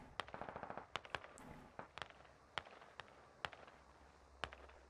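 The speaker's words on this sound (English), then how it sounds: "That's AK fire west." Rapid AK rifle gunfire in a tactical military shooter game, sharp cracks in quick bursts and scattered single shots, fairly distant and faint, with no talk over it.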